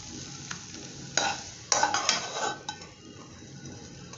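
Spicy mushroom fry being scraped and spooned from a pan into a serving dish: several metallic clanks and scraping strokes over a low background sizzle, close by, with no speech.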